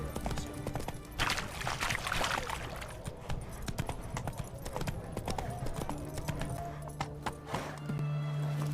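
Roach, a horse in The Witcher 3: Wild Hunt, trots with steady clip-clopping hooves and gives loud whinnies, set against a busy in-game ambience.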